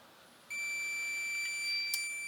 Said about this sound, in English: You can hear the continuity buzzer going there.